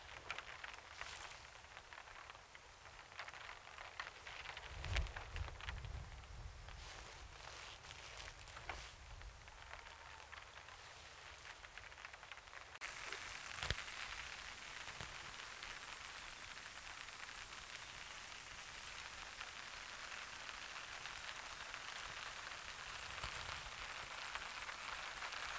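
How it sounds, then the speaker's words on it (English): Light rain patters steadily on the outside of a car during car camping, a soft continuous hiss with occasional heavier drops and a slight shift in tone partway through. "this is the perfect amount of rain that you want. Just nice and light."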